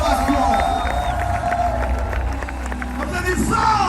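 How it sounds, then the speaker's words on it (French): Large crowd at a Kanguka gathering in Bujumbura cheering and applauding continuously, a dense roar of voices and clapping that stays loud throughout. "Beaucoup d'acclamations."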